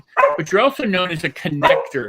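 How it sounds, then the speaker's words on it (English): A dog barks a few times in a home setting during an interview, close by and partly masked by someone talking over it. "That's my dog"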